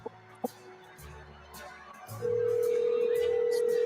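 A phone call's ringing tone begins partway through as a steady, loud continuous tone that holds to the end, following a quieter stretch with a couple of brief clicks and faint background noise.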